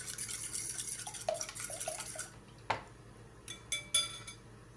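Milk is mixed into beaten eggs for a potato omelette with cheese, giving faint, quiet stirring and a few light clinks against the bowl, with scattered small knocks near the end.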